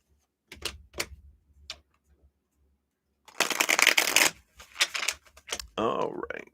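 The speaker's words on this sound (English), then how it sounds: "Shuffle these up one more time." A deck of playing cards is shuffled in one loud, crisp riffle burst lasting about a second. Scattered taps come before it, and a person speaks just afterward.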